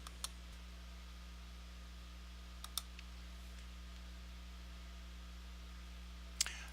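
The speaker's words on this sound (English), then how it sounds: "I will click on the complete order button to place the order and renew the server" A few soft computer mouse clicks on website buttons, isolated taps spaced seconds apart over a quiet steady hum.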